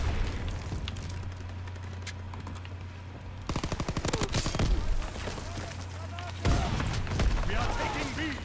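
Rapid bursts of machine-gun and rifle fire with booming impacts in a World War II Call of Duty multiplayer battle, loud, close and repeated in clusters, with a player talking over the shooting.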